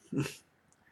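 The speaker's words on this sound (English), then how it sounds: "Sorry, my dogs." A dog gives a single short whimpering yip, close and fairly loud, that fades quickly into near silence.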